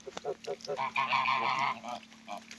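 A flock of about fifteen geese honks close by in a rainy yard with puddles, a run of loud, overlapping nasal calls.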